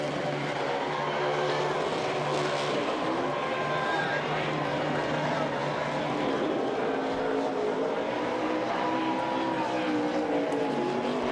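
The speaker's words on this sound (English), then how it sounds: "Burning down a set of those Racing Eagles, celebrating another Talladega win" A NASCAR stock car in victory lane at Talladega Superspeedway, burning down a set of Goodyear Racing Eagle tires, gives a loud, steady engine roar with tire screech that holds throughout.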